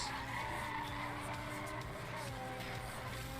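A racing video game car fires a nitrous boost: a steady, loud roar of engine and tire noise with no breaks for the whole stretch.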